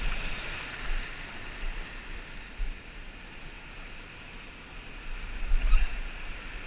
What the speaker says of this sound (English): Look at all this beautiful white water.